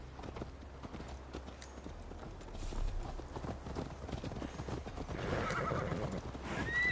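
A horse in the video game Assassin's Creed Valhalla neighs while its hooves clip-clop steadily, set against continuous in-game ambience that grows a little louder toward the end.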